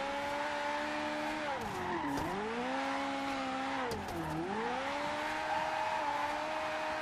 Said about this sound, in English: I'll try and drift like this so you can see the car and see the angles.